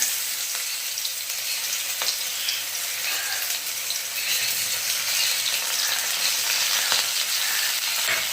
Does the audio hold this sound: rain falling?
no